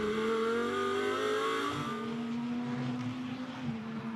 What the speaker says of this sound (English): Now, there are the Audis of Patterson and Gellings